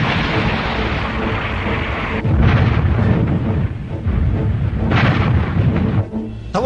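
Heavy cannon fire from a warship aimed at an enemy ship in an animated series, a continuous dense roar of booming blasts and rumbling explosions, loud and close with no talk.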